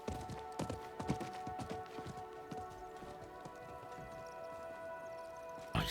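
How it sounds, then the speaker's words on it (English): Horse hooves clip-clop in a quick, uneven run inside Diablo IV, a dense string of sharp knocks that drifts off and fades, with a loud hit near the end. "I think that was the merchant's horse."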